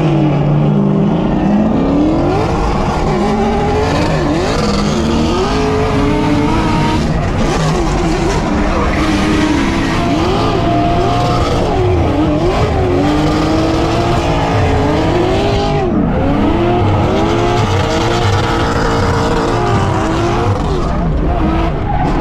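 A Nissan S14 race car screams past at speed, its engine roaring loud and close with tires squealing and skidding, a constant dense roar throughout.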